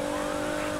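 In the racing video game Need for Speed Heat, a police car siren sounds during a chase: a loud, steady electronic tone over a dense rush of engine and road noise, lasting under a second.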